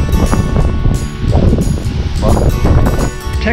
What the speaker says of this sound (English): I need a mic system so you don't hear the blasting of the wind